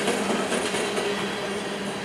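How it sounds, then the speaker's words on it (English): A southbound train rolls past close by, a steady loud rumble of rail cars with rhythmic clickety-clack from the wheels throughout, no voices. "that train going south"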